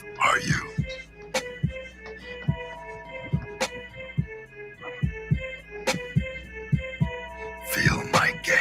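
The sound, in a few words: frantic heartbeat sound effect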